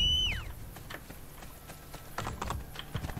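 Horse hooves clop irregularly in the video game Assassin's Creed: Brotherhood, faint and scattered with a few louder steps, mixed with clicky keyboard-like taps and a brief whinny-like tone at the start.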